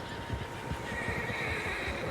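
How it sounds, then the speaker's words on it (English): Horses in Red Dead Redemption 2 neigh and whinny over a steady outdoor ambience, with soft hoof clip-clops underneath. "Horses, quite a few of them."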